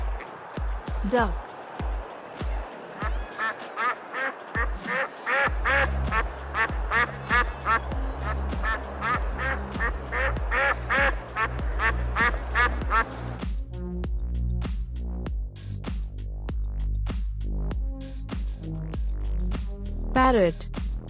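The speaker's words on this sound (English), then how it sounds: "Duck." A duck quacks repeatedly in a farm setting, loud close quacks in quick succession over a steady background, with a short spoken word near the start.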